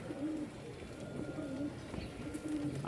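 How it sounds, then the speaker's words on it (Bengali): Several Giribaz pigeons from Rajshahi coo softly in repeated low, throaty phrases, with steady background bustle at a pigeon market in Mirpur-1, Dhaka, and no clear speech over the calls. "এগুলো রাজশাহীর খুব ভালো মানের গিরিবাজ।"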